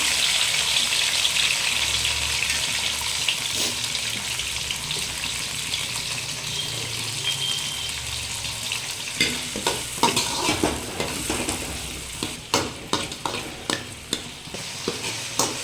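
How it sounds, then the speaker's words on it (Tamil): Chopped onions dropped into hot oil for a simple chicken gravy, with a steady loud sizzle and frying hiss that turns into uneven crackling and stirring clatter toward the end. "இப்போ ஆயில் நல்லா ஹீட் ஆகிடுச்சு ஃப்ரெண்ட்ஸ். இப்போ வந்து நம்ம கட் பண்ணிக்க இந்த ஆனியனை போட்டுடலாம்."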